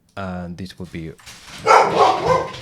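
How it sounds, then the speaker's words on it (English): A pet dog barks excitedly at the postman, with a short burst of loud, rough barks breaking in right after a man's speech in the room. "That was my dog going crazy at the postman as usual."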